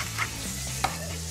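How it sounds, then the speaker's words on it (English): Steady sizzling of pancetta frying in a hot pan, with a couple of brief clinks of a utensil against the pan. "Now, start frying off that pancetta."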